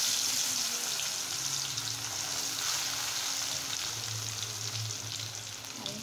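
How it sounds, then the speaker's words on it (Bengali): Fish sizzling and frying in hot oil, a steady, continuous crackling hiss close by that runs the whole time, with faint clinks of a utensil and no talk. "আমি এখন তেলের ভিতরে সেই মাছটা দিয়ে দিচ্ছি।"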